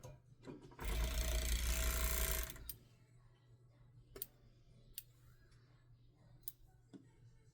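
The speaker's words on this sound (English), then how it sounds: "And then I'm just going to sew so the straps are in there and attached." A sewing machine stitches straps onto a child's top in one steady, close whirring run of about two seconds, followed by quieter handling clicks and taps.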